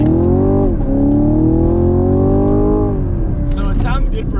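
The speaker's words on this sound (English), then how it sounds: "we're gonna do a first gear pull just so you guys can hear what it sounds like" A 2022 Chevrolet Camaro with the LT1 V8 and stock exhaust revs hard through a first gear pull, a loud rising engine roar that climbs, shifts and then drops off, heard up close.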